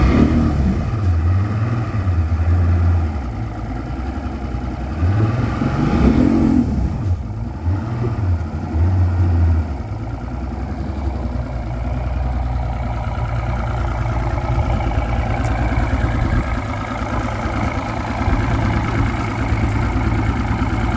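Outboard motor of a 1999/2000 Mercury 200hp OptiMax DFI oil-injected two-stroke, with a hot prop, running close by with a steady low drone, a few throttle blips swelling the pitch early on before settling into an even idle.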